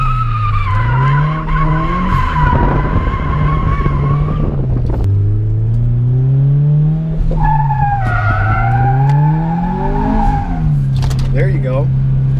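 A turbocharged Subaru BRZ drifting, its engine note rising and falling in long revving sweeps while the tires squeal and skid in sustained howls, close and loud, with people talking over it.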